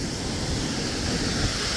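A waterfall beside a Lake Superior hiking trail roars as a steady, dense broadband rush of falling water, loud and close with no break or voice over it.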